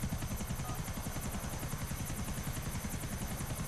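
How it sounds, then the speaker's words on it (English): A helicopter in the video game GTA 4 flies with a steady, loud rotor thrum. The blade chop runs as a fast, even pulse throughout, with a constant engine whine above it. "I'm gonna crash my fucking helicopter."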